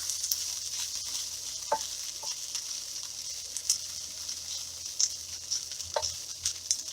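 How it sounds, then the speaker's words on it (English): Food browns in a covered pan during roadside cooking, with a soft steady sizzle and a few scattered clicks and taps of utensils, fairly quiet and close. "Let them get another round of browning here."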